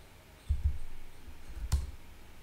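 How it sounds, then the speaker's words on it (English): A computer mouse is double-clicked on a spreadsheet cell in Excel, giving a few soft, close clicks, a pair near the start and another a second later, in a quiet room. "But if you'll double click on it"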